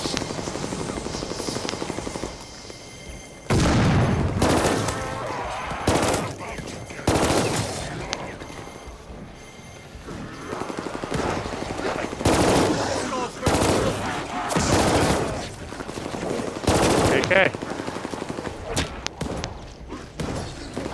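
Thompson submachine gun fire in Call of Duty: Vanguard Zombies, several loud bursts of rapid shots breaking through a steady rumbling background, with quieter gaps between the bursts.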